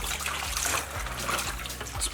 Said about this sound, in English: I submerge and bring it up, submerge and bring it up.